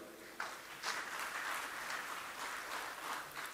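A crowd applauds the Indonesian president in a steady wash of many hands clapping, moderately faint and continuous, swelling slightly in the middle before tapering off.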